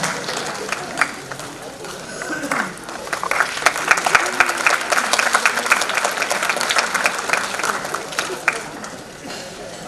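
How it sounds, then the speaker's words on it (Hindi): Sustained audience applause fills a drama company's stage event, dense broadband clapping rising after a quieter start and holding steady and loud throughout. "तालियों की गड़गड़ाहट थोड़ी देर आप बनाए रखेंगे तो हमारा भी उत्साह बढ़ता रहेगा"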